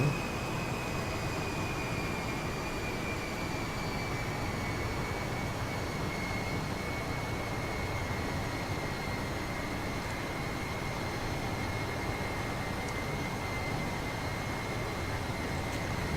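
Steady engine drone of a Boeing 707-320 in Flight Simulator X in cruise flight, a continuous broadband roar with a faint high whine, unchanging and constant throughout.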